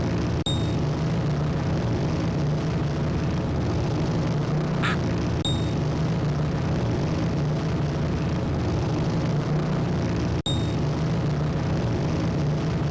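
A duck quacks a couple of times in a 1997 duck racing video game, short nasal calls cutting through a steady, loud engine-like background drone.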